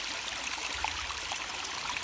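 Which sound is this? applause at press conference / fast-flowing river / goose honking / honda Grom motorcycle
fast-flowing river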